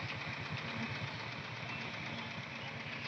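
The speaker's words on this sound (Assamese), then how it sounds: "ট্ৰেক্টৰেদি টানি ইটা ওপৰত উঠাই আছে" A tractor engine runs steadily while hauling bricks upward, a continuous close mid-pitched rumble with a knocking pulse and no voices.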